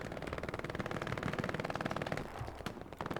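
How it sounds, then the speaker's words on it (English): Rapid automatic gunfire in the World War II shooter Hell Let Loose, a steady rattling machine-gun stream with a few louder single shots near the end, somewhat distant and fairly quiet. "I hear some gunfire right now"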